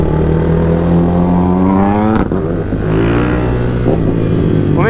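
A Honda CG 160 motorcycle with a 205cc engine accelerating hard on a top-speed run, its loud close engine note climbing steadily in pitch, briefly dipping at a gear change and then rising again.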